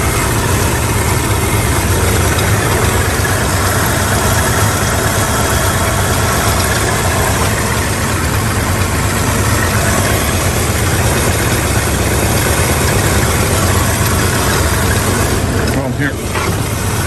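A deep, steady muscle car V8 engine idle rumbles continuously at close range, loud and even throughout, with a brief dip near the end.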